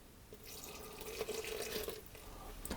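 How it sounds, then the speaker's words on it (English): A yeast mixture is poured into a stand mixer bowl while bread rolls are being made, giving a faint, brief liquid trickle and splash close by. "And then I'm going to pour my yeast mixture in as well."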